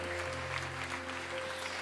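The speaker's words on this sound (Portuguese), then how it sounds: "Aplauda mais, gente." Congregation applauding during a church service, a moderate wash of clapping over a sustained organ or keyboard drone.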